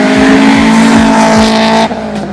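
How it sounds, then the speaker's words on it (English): An Acura Integra's four-cylinder engine gives a loud, close, buzzy exhaust drone with a steady tonal hum and quick rev pulses, then cuts off abruptly near the end. "the exhaust note sounds like a literal fart."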